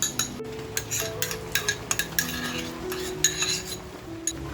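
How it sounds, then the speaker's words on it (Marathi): A spoon stirs yogurt and onion in a pan for mutton masala, with repeated close scraping and clinking against the metal and a faint sizzle underneath. "आता आपण दही टाकलंय ना तर ते दह्याचे गट्टे होऊ नयेत, म्हणजे फुटू नये म्हणून आपल्याला हे छान असं फिरवत राहायचंय, फ्राय करत राहायचंय."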